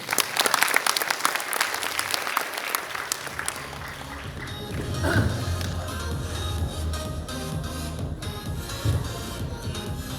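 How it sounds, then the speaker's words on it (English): Audience at an IBM Data & AI forum opening event in Indonesia bursts into applause, loud and dense at first, then thinning into scattered claps and crowd rustle. "can we give him another round of applause?"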